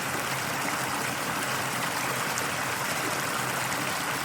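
Close-up of a mountain stream cascading over rocks, a steady, full rush of water that stays constant and near throughout, with no voices.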